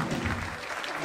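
Audience applause at a local Christmas show with a Malay orchestra band, a brief dense wash of clapping, close and fairly loud.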